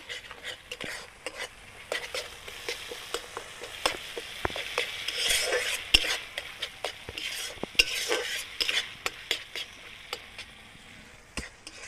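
Spice masala for a Gondhoraj katla fish curry is stirred and fried in a pan, a soft continuous sizzle under frequent quick scraping and tapping strokes of a spoon against metal, close and moderately loud, with no talking.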